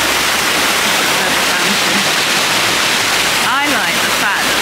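Water sprays from the nose of a small horse statue fountain, a loud, steady rushing hiss close to the microphone, with a brief voice-like sound rising over it near the end.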